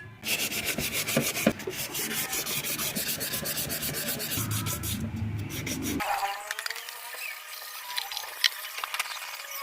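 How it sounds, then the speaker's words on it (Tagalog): Close, rhythmic back-and-forth rubbing of 1000 grit sandpaper on a matte black motorcycle fairing, steady strokes for about six seconds before fading to quieter scratchy handling. "Pero lihain pa natin ng 1000 grit para makinis na makinis."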